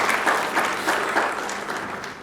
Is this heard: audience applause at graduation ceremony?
yes